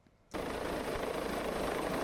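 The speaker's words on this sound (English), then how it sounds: "The helicopter then comes and picks them up and returns to base." A helicopter arrives at Longships Lighthouse in stormy weather to pick up a cargo net. Its loud, dense rotor roar starts abruptly from near silence and holds steady.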